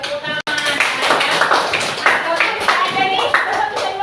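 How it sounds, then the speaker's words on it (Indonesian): A group claps hands in a classroom, dense steady clapping at close range for a few seconds, with voices mixed in. "Oke, tepuk tangan."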